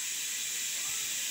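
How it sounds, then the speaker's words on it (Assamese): Steam escaping from a stovetop pressure cooker with sweet corn cooking inside, a steady, fairly faint hiss holding unbroken throughout with no voices. "এইফালে এটা চিটি বাজি গ'ল"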